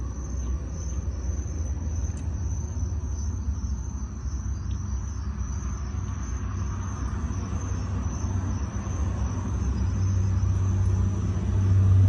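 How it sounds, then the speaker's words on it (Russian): A constant low roar of passing road traffic beside a road in Mexico, with a steady high chirping of insects over it, growing slightly louder toward the end. "усталость компенсирует шум дороги, и я усну. А так здесь очень громко."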